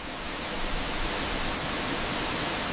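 Steady rain falling in the Grindelwald valley of the Swiss Alps, a dense, even hiss of drops without pauses, close and fairly soft, with no voices.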